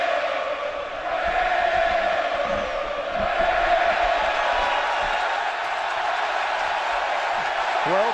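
Rowdy standing-room-only baseball crowd at a Pittsburgh Pirates game: a continuous, distant crowd roar with some swelling cheers sits under a broadcaster's voice throughout.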